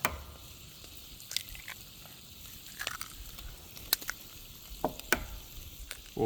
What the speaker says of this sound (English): get our eggs frying here